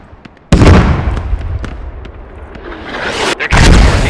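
Mortar rounds crash in a tactical multiplayer squad shooter as infantry advance, with two loud, close booming impacts that roll into long rumbling decay, with faint pops and crackles between them.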